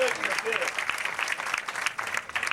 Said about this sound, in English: You ought to give yourself a round of applause for that.